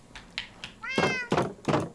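A video game cat gives several short meows followed by a longer drawn-out one, close and clear, with a few soft knocks between them.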